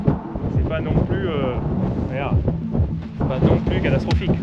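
Strong wind buffeting the microphone at a paragliding launch site, a rough, loud rumble throughout, with people talking and whistling-like voice sounds over it.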